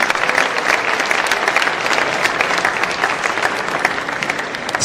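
Audience applause at the Kenya Film Commission awards at KICC, for the second runners-up: dense, steady clapping from a large crowd filling the hall without a break.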